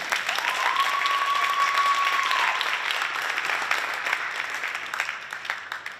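Crowd at a Tenafly high school wrestling event breaking into sustained applause, dense close clapping that holds steady for several seconds before gradually thinning, with a brief whistle near the start.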